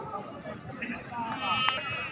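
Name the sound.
goats bleating at a goat market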